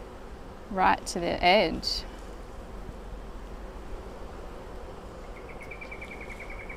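Honey bees drone in a steady, close buzz around an open Flow Hive during a hive split, with a brief spoken remark near the start.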